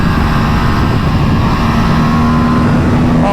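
An Aprilia RS 457 motorcycle engine at high speed, a loud continuous drone blended with heavy wind roar, its pitch rising slightly near the end.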